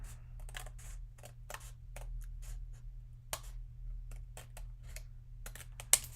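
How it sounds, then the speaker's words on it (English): Lawn scissors snip around the edge of a die-cut paper craft piece, a run of short, crisp cuts at an uneven rhythm, close and fairly faint over a low steady hum, with a sharper click near the end. "I like to cut it out with some lawn scissors"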